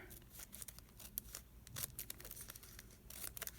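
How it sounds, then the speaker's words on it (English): Scissors snip paper for a craft project in a quick series of short, crisp cuts, close but fairly quiet, with small pauses between bursts and no talking. "I'm going to cut just a little bit of that off"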